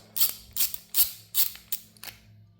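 Loosening the nyloc nut on an Atlas CAL bipod: six sharp metallic clicks and ratcheting bursts in a steady rhythm, close and fairly loud, with no talking.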